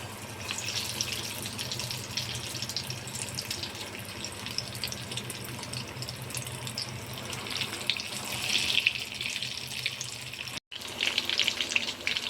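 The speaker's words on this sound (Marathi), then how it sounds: "तेल गरम झाले, आता याच्यामध्ये आपण ब्रेड रोल सोडून घेणार आहोत।" Bread rolls coated in breadcrumbs deep-frying in hot oil, a dense, continuous bubbling hiss that stays loud and even for the whole stretch, with a brief dropout near the end.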